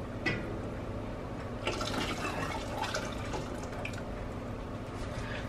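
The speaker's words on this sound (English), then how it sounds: "I'm gonna add some more broth" Broth poured into a cooking pot ahead of adding cornmeal, a steady liquid splash and gurgle that runs for several seconds, close and moderately quiet, with no voices.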